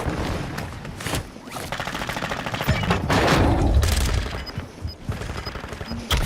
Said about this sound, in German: Werfe Blendgranate!